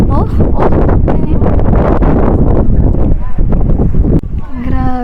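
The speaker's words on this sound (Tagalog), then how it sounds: "Ang mahangin na bigla." Sudden strong wind buffets the microphone in a mountain village near Sapa, Vietnam, a loud rough roar that rises and falls while people talk over it, dropping away near the end.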